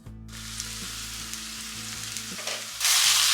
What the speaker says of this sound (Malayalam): അപ്പോൾ ഇടയ്ക്കൊന്ന് അടപ്പ് തുറന്ന് ഒന്ന് ഇളക്കി കൊടുക്കാം.